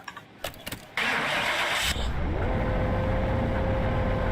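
In the Car Mechanic Simulator 2021 video game, a supercharged engine in a Salem 1500 restoration cranks after a few clicks, fires up loudly and settles into a steady close idle with a faint supercharger whine.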